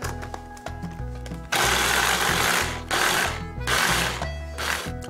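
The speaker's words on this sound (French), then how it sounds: "Puis ensuite, on va la pulser au robot." A food processor pulses rhubarb for jam in short bursts, loud and near, its motor whirring on and off in roughly three pulses against a humming background.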